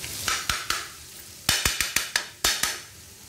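Paneer bhurji stirred in a hot pan, with repeated sharp scrapes and clinks of the spoon against the metal over a steady sizzle of frying, in a quick uneven rhythm of about ten strokes, close and fairly loud.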